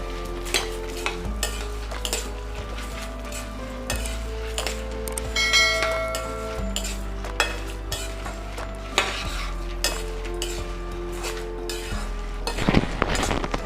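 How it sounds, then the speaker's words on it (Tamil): Urad dal fries in oil in a pan for idli podi, a steady soft sizzle under repeated scraping and stirring of a spoon against the metal, with occasional clinks. "இப்போ இந்த உளுந்தை முதல்ல போட்டுக்கணும் எண்ணெயில்."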